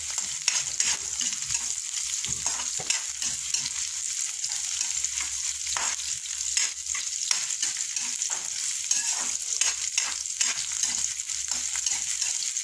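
Onions and garlic sizzle steadily in a hot pan, with frequent scraping stirs of a spatula across the metal and a constant bright frying hiss throughout.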